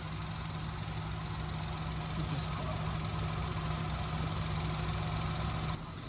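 A steady mechanical motor hum drones continuously at an even level from a TEXUM vacuum cleaner's tyre inflator pump, then cuts off near the end.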